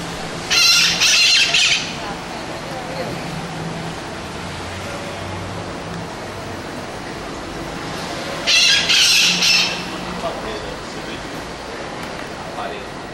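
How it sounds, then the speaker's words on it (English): Parrots squawking loudly in two harsh, shrill bursts of a second or so each, several seconds apart, over a steady background of outdoor noise. "I think those were parrots, but they were making quite a racket."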